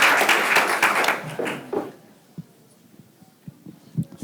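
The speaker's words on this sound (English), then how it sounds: "Let's give McBride another round of applause." Audience applause for McBride fills the room loudly for about two seconds, then thins out into a few scattered claps and taps.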